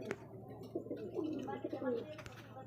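Pigeons coo softly at a bustling pigeon market, several low burbling calls rising and falling over about three seconds, with someone talking close by throughout.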